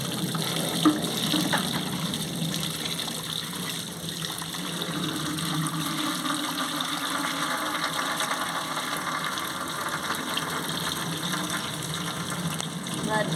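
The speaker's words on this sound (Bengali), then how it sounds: "আমি ধুয়ে নিচ্ছি ভালো করে চুটকে চুটকে ধুয়ে নিচ্ছি" Chopped cabbage being washed by hand in water, with a steady, continuous gush and slosh of running and splashing water lasting throughout, close and moderately loud.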